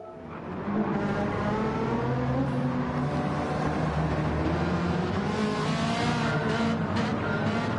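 A pack of race cars in a racing video game launches from the start of a 17-lap league race, engines swelling into a loud, sustained layered roar with high revving tones, no voices.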